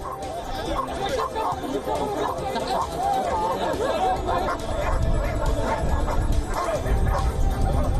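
Dogs bark and yip repeatedly at an outdoor dog show where the dogs perform obedience and rope-walking acts, over a steady crowd murmur and a talking voice.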